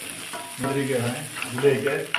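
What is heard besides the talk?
cumin and chili frying in a pan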